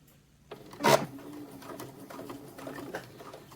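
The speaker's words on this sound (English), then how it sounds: "I'm at my machine, and again, I have it on the longest straight stitch" A sewing machine set to its longest straight stitch runs a seam, starting with a sharp mechanical clack and then chattering evenly in a quiet room.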